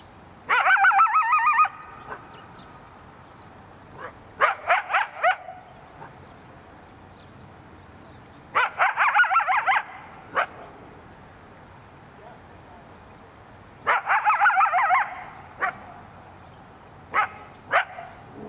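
Coyote barks and raspy growling in four separate bursts, each a quick run of harsh, gravelly calls followed by a pause, fairly close.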